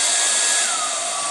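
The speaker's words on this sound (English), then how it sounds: "I just literally put the hairdryer over it and keep working on it" A hair dryer blows steadily, held close over handmade silk paper to dry it, a loud continuous whirring rush with a slight pitch shift partway through.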